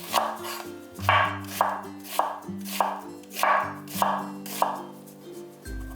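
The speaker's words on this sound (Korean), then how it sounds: "양파는 밑둥을 잘라내고 채치듯 얇게 썰어주세요" A knife slices an onion thinly on a cutting board, a close steady series of about eight rhythmic chops over soft background music.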